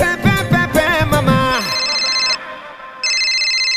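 A phone ringtone cuts in after music, a bright repeating electronic trill that plays, pauses briefly, then resumes, loud and close.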